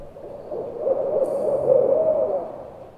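A barred owl hoots in a low, steady, slightly wavering call lasting a few seconds, heard alone against a hushed, noise-reduced background.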